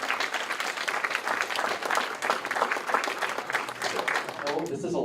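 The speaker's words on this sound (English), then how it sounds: "Give a round of applause for all these diverse filmmakers." Steady applause from a crowd at a filmmakers' Q&A, dense clapping throughout that fades slightly at the end.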